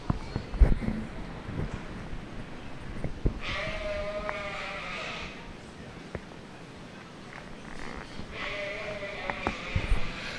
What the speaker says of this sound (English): Awfully nice ewe here for a single entry class